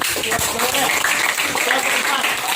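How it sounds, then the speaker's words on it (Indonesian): Applause from a children's church class after a teacher's call to clap, a short dense patter of many hands that carries on under a talking voice. "Tepuk tangan dong."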